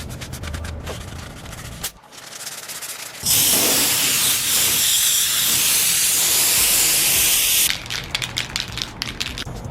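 A loud, steady spray-can hiss lasting several seconds, close up, with rattling and handling noise before and after.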